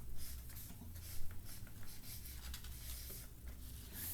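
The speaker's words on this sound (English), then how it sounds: "Let's go up here and write outline." Marker or chalk writing an outline on a classroom board, a soft continuous scratching and rubbing of strokes with small taps, faint and close, with no talking.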